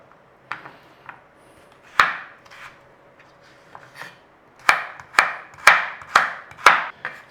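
Knife chopping carrot into small cubes on a board: a few scattered cuts, then a quick run of six sharp, close, fairly loud chops with no talking.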